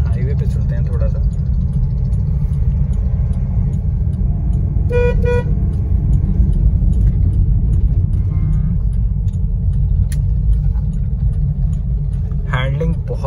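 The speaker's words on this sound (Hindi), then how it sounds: "इंजन थोड़ा सा आपको नॉइजी लगेगा लेकिन डीजल इंजन है तो चलता है इतना तो।" A 1.5L diesel VW Polo drives along, its engine giving a steady low droning rumble with road noise, while someone talks over it and brief car horn toots sound in the distance.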